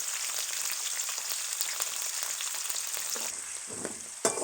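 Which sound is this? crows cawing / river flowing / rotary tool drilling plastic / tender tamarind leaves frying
tender tamarind leaves frying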